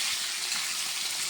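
Fish frying in a pan for a Bengali home-style rice dish, giving a steady, dense sizzle with no break, close and fairly loud, with no voices.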